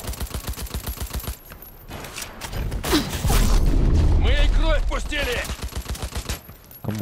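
Rapid gunfire in the video game Cyberpunk 2077, a fast rhythmic burst of automatic shots opening and closing the clip, with a louder booming impact and mechanical clatter in the middle.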